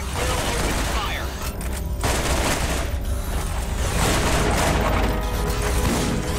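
Sustained, dense gunfire in the shooter Borderlands keeps up a continuous, loud barrage of overlapping shots and impacts, with a voice heard faintly within the din.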